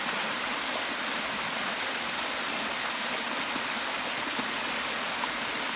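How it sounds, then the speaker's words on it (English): Water pours over the waterfall at Fall Run in Pittsburgh and down the stream below in a constant, dense rushing wash, close and unbroken, with no voices. "we're at the waterfall"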